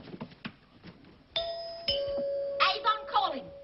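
A two-tone doorbell chime rings clearly, its tones lingering, after some brief talking, in the TV sitcom Kingswood Country.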